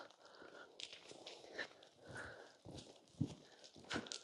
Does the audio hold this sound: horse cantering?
yes